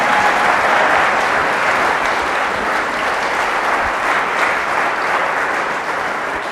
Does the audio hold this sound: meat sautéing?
no